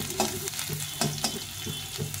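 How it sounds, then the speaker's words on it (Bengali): Ginger paste fries in very hot oil, a steady close sizzle with repeated spoon stirs scraping the pan at a regular rhythm, and no voices. "এখন আদাটাকে ভেজে নেব।"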